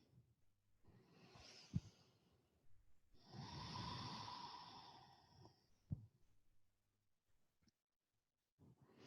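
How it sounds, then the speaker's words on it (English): Slow, deliberate breathing during a gentle qigong exercise, a soft inhale and a longer airy exhale with a few clicks and pauses, close and quiet. "Breathing."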